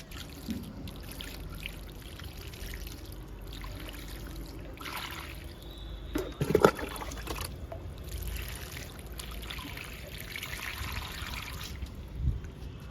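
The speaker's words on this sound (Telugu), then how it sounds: "ఇంకా వాటర్ ఇస్తున్నా" Water trickles and pours softly onto soil around a newly planted mulberry plant, a gentle steady flow with a few brief splashes partway through.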